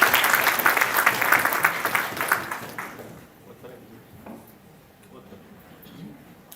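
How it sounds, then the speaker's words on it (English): An audience at a World Meteorological Organization event gives a warm round of applause for Baroness Varsi, dense for about three seconds before fading into a quiet room murmur. "round of applause, please"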